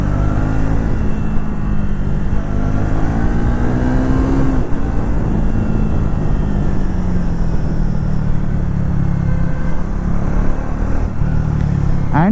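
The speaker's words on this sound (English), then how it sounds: "And the exhaust note, it is neither too loud nor very mild." A Triumph Thruxton 400 motorcycle rides through city traffic, its exhaust note a loud, close rumble that rises and falls as the engine revs up and eases off through gear changes, with steady wind and road noise underneath.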